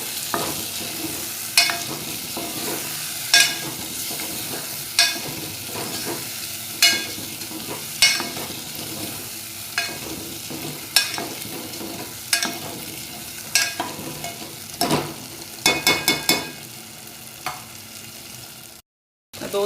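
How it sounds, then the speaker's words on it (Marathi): Chopped brinjal stir-fried in masala for a Maharashtrian stuffed-brinjal dish, with a spoon scraping and tossing the pieces in a steady rhythm over a soft sizzle, mostly regular strokes with a quick cluster near the end, no voices. "दोन 3 मिनटं चांगलं असंच मसाल्यामध्ये परतत राहायचं त्यांना, खालीवर करून."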